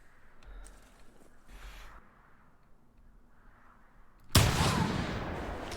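A .308 Wolfsbane fired at a bison about 40 yards away in theHunter: near-silence gives way to one sudden, loud, close blast whose heavy rumble carries on to the end, with no talking.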